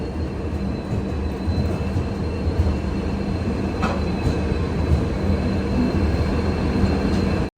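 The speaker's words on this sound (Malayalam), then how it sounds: "ഇവിടെ 3-ാം നമ്പർ പ്ലാറ്റ്ഫോമിൽ ഇതാ ഇന്ന് രാത്രിക്ക് കന്യാകുമാരിയിലേക്ക് പുറപ്പെടാനുള്ള വിവേക് എക്സ്പ്രസ്, ഇന്ത്യയിലെ ഏറ്റവും ദൂരത്തിലോടുന്ന ട്രെയിൻ" The Vivek Express, a long-distance train in India, sits at a railway platform with a loud, steady rumbling roar of engine and carriages, plus a faint high whine and a brief clank partway through.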